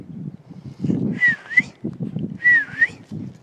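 A person whistles twice to call a dog, each call a short rising-then-falling two-note whistle, clear and close over a low rustling background.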